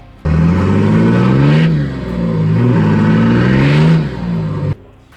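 A Nissan Y61 Patrol with a TD42 diesel, G-Turbo red wheel, UFI 11mm pump and HBD cooler revs loudly up close in two long sustained pulls, the pitch rising and falling, before cutting back to quiet.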